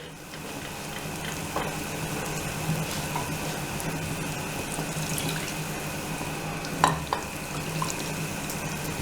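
Water is poured into a mixer jar in a home kitchen while making mint chutney, a steady, soft running trickle with a brief clink of the jar near the end.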